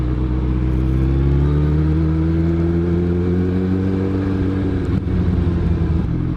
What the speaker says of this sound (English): don't know why I'm sat in this traffic.